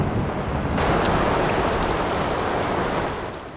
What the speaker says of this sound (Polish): Rano nastąpiło załamanie pogody. Burza, grad i ochłodzenie.